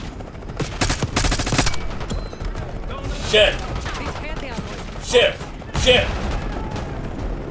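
Loud rapid bursts of automatic gunfire in the Black Ops 6 campaign, followed by several separate heavy shots, with a voice speaking briefly over the action.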